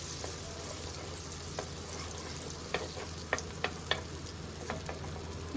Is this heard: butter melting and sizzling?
yes